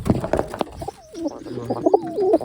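A pigeon coos close by in low, soft, warbling phrases beside its chicks, with a few light knocks and rustles at the start and no talking.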